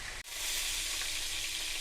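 Onions and chicken kofta pieces sizzle steadily in hot oil in a frying pan, a continuous bright crackling hiss broken by one brief gap near the start.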